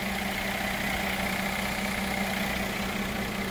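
A 2015 Mercedes ML350 AMG AWD Edition with 99,000 miles idles steadily, a constant low engine hum with a faint whine above it, heard up close and alone with no one talking.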